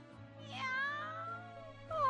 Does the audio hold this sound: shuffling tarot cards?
no